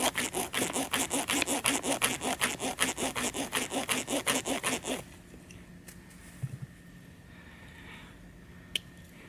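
A bow drill spins rapidly in a fresh hole in a wooden board for a friction fire, with green material placed to cut friction, making a fast, steady rhythmic rasping saw-like stroke for about five seconds before it stops, followed by quiet with a few faint clicks.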